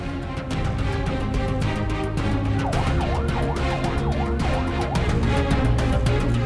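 Ambulance sirens wail in a dense traffic jam, a rising-and-falling electronic tone repeating over a steady, loud roar of idling and moving road traffic.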